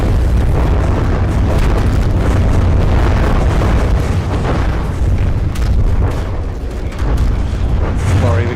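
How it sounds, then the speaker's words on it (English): A dense, continuous barrage of deep booming video game explosions in a tank battle, loud and close, rumbling on without pause for several seconds. "Flurry of explosions there,"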